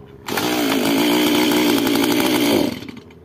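A Stihl MS192T chainsaw, one with a fault that makes it stall when accelerated and start poorly, revs up to a loud, close, buzzing engine drone that holds steady for a couple of seconds, then drops away, with no talking.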